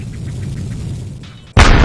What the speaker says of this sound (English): I almost got flinged by the explosion.